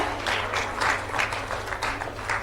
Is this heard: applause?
yes